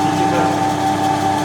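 A loud M2 CS car engine with its exhaust removed idles and revs steadily with a harsh, raw tone, running continuously throughout.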